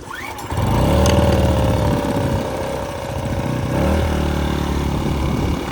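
An AiVolt 1600 AGen1600c portable generator engine starting with a pull on the choke, then catching and running at a steady, moderately loud idle with a low rhythmic drone.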